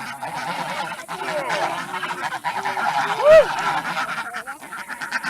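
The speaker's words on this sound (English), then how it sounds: "That goose almost became dinner." A loud single goose honk rings out midway, with softer honking and quacking calls around it over a busy outdoor background at Blanchard Springs in the Ozarks.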